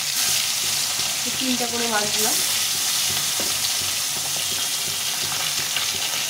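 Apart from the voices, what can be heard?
tilapia fish frying in white oil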